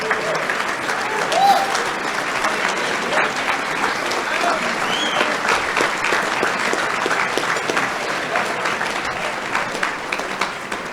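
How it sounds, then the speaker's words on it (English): A banquet audience at a high school football banquet claps and cheers for the assistant coaches, a steady dense wash of applause lasting throughout with scattered whoops. "how about we encourage and cheer for our amazing assistant coaches?"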